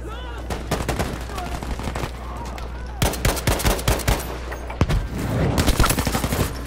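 Battlefield V gunfire on the A Bridge Too Far map, with rapid machine-gun bursts and single shots cracking in clusters, loud and close, broken by brief pauses while players talk over the fighting.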